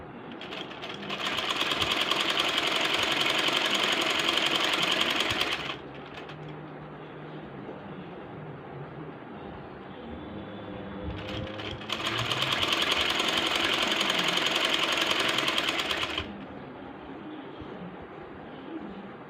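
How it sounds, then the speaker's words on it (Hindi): A sewing machine stitches piping onto the slit edges of a kameez in two long loud runs, each lasting several seconds and separated by a quieter pause with faint handling sounds. "पूरे घेर पे एक दफ़ा मैं ऐसे ऊपर ऊपर रख के सी लूँगी"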